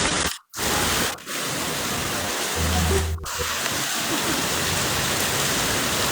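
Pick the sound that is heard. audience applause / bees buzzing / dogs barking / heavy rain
heavy rain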